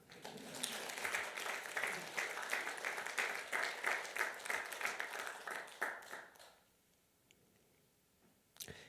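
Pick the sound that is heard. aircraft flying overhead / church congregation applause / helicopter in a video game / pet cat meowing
church congregation applause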